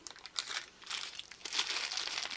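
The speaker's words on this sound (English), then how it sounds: "Plastic bags." Plastic bags crinkle and rustle close up in irregular bursts as home brewing parts for a 10-gallon system are unpacked, with no talking.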